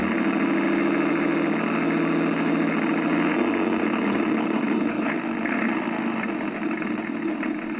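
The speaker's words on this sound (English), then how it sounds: "you see how hard it is for the gears to go" An Accucraft Goose model locomotive with stiff gears runs with a steady, close mechanical drone and whir, with faint periodic ticks over the continuous grinding hum.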